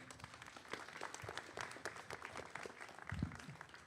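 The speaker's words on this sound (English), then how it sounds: "Let's give him a round of applause, everyone." A crowd applauds at an outdoor press conference, a fairly quiet, dense patter of clapping lasting several seconds with a few sharper claps standing out.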